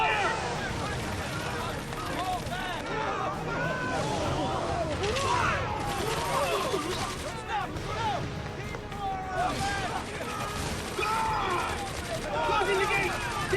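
Dense rapid gunfire crackles through a Final Fantasy 13 battle, continuous bursts of fusillade mixed with shouted voices and chaotic effects, steady and fairly loud throughout.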